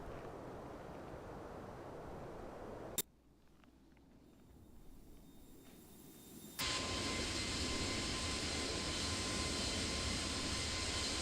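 Jet engines of an Airbus A320 in the X-Plane 12 flight simulator roar as a steady broadband rush, dropping briefly to a quieter whine before the loud roar returns.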